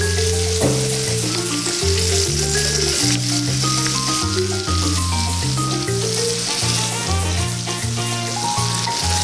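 A T-bone steak sizzles loudly and steadily in a pan, while background music plays throughout.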